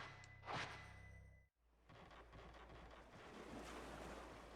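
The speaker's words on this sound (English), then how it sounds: "You can hear the water rushing." Rushing water in Fatal Frame II, a steady broadband wash of flowing water that swells slightly, following a brief louder tone and a short near-silent gap.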